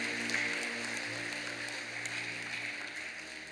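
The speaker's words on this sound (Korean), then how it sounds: "크게 박수로 환영하십시오" A church congregation applauds in welcome during a Sunday service, a steady wash of many hands clapping at moderate, even loudness throughout with no voices standing out.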